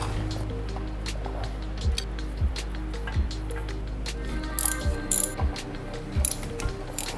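Ratchet loosening brake caliper bolts on a 2012-2017 Hyundai Accent, with rapid clicking pawl bursts repeating at a steady pace over a constant low hum, close and moderately loud.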